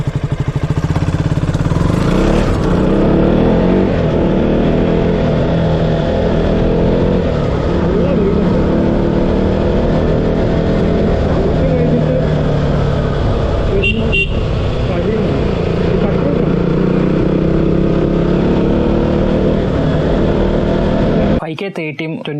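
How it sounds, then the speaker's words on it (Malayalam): A motorbike ride recorded on a mounted GoPro Hero 9, with loud continuous wind buffeting and engine roar throughout, a brief horn toot mid-ride, and an abrupt cut near the end. "ഇനി നമുക്ക് ബൈക്ക് ഓടിച്ചിട്ട് എങ്ങനെ സൗണ്ട് ക്ലാരിറ്റി ഉണ്ടെന്ന് നമുക്കൊന്ന് ചെക്ക് ചെയ്യാം"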